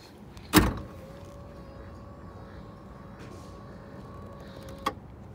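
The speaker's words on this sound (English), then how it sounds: "Self-closing trunk." The trunk of a 1993 Lincoln Town Car Cartier pulls itself shut with a sharp thud, followed by a faint motor whine and a softer closing click a few seconds later, in a quiet setting.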